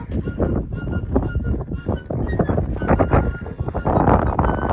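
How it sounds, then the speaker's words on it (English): Strong gusting wind buffeting the microphone at the Jordan Craters lava flow in Oregon, a loud, continuous low roar with uneven surges throughout. "The wind is brutal."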